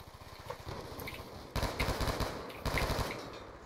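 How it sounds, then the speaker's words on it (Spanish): Rapid automatic gunfire from a multiplayer match of Call of Duty: Black Ops II on PC comes in several loud bursts. Quieter shots at first give way to two heavier volleys. "¿Quién fue el que me tiró 20 balazos en medio de uno?"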